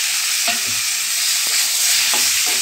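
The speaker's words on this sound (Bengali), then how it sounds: "এবারে আমি টমেটোগুলো দিয়ে দেবো" Tomatoes hit hot oil with a loud, steady sizzle, while a few scraping stirs sound up close over the constant hiss.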